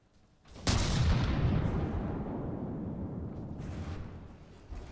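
A mine missile launching in the naval combat game From The Depths, heard as a sudden heavy boom followed by a long roaring rumble that slowly fades, with a second softer whoosh near the end.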